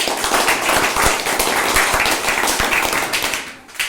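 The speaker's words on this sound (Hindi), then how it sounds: "तो सबसे पहले ताली बजा लीजिए बच्चों को।" A group claps for children who built a model of the silkworm life cycle in a classroom. The clapping is loud, dense and uneven, with sharp slaps over a steady rustle of many hands.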